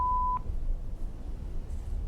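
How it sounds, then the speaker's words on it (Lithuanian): A single short voicemail tone sounds at the start and ends sharply, leaving faint low background hum. "Po signalo palikite žinutę."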